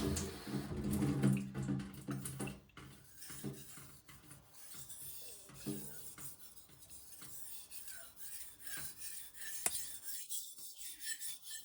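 A steel blade is worked on a wet Japanese natural whetstone, giving soft, irregular rasping and scraping strokes at close range. Around the tenth second the sound turns faint and then falls nearly silent.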